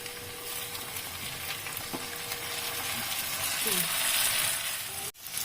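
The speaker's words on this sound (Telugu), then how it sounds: "ఉల్లిపాయలు బాగా వేగాయండి, టమాటాలు వేస్తున్నాను ఇప్పుడు." Tomatoes are tipped onto fried onions in a pan, raising a steady close sizzle with a few light clatters from the spoon; faint background noise, no clear speech.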